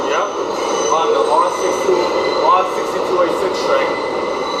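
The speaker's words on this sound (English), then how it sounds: "R6286 train, going to the Brooklyn Bridge City Hall" A New York City subway train, car R6286, rides toward the Brooklyn Bridge–City Hall station, with steady loud rumble, a continuous hum and repeated faint wheel squeals throughout.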